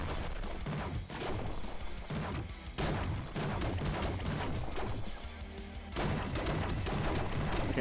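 Rapid gunfire and explosive booms from the roguelike shooter game Nuclear Throne during a boss fight, dense and continuous with brief pauses between bursts.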